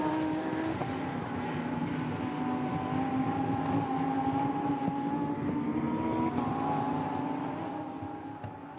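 Lamborghini Super Trofeo race cars climbing a hill at the Nürburgring, a loud sustained engine drone with rising and falling tonal harmonics, steady throughout and easing slightly at the end.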